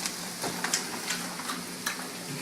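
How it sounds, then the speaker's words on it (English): Onions fry in a pan until caramelized for pierogi filling, a steady hiss of sizzling broken by faint ticking pops and light stirring scrapes, close and even, with nobody speaking. "Fry onions till caramelized."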